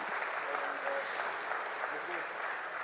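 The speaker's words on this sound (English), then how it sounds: "Can we hear a round of applause and a huge cheer for Mr." An audience applauds and cheers for Srikanth Bolla, founder and CEO of Bolant Industries: dense, steady clapping close by, filling the room at an even level throughout.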